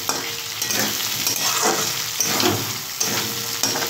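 Shrimp frying with ginger paste in a pan, a loud steady sizzle with repeated scraping stirs of a spatula, no voices.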